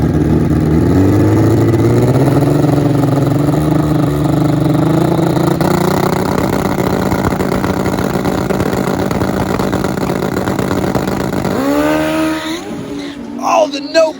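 A drag race between an old-school Kawasaki KZ and a modern no-bar Suzuki Hayabusa drag bike: loud, close engines roar and climb steadily through their gears for about twelve seconds, then cut off into a crowd and a voice talking.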